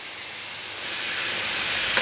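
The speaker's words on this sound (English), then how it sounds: "that sizzle is what we want to hear" Korean short ribs sizzle as they hit hot barbecue grill grates, a steady, close hiss that swells louder partway through and continues without talk.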